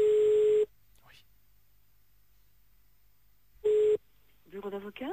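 A telephone ring tone on a line during a radio prank call sounds twice, a steady tone burst at the start and another a few seconds later, with silence between and a voice beginning to speak at the end.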